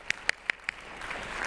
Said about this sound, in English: A round of applause, absolutely.